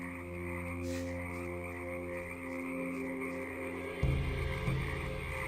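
Ambient frog croaking from the Gothic 2 video game soundscape, a dense chorus of many frogs calling steadily in the background with a low hum, swelling slightly louder near the end.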